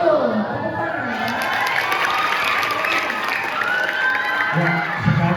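School students clap and chant together at a seminar, a loud, continuous crowd of young voices shouting in unison over clapping, with a clear voice ringing out near the end.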